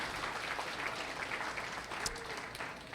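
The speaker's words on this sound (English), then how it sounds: "let's give her a round of applause." An audience gives a steady round of applause, a dense, even patter of many hands clapping at moderate volume throughout.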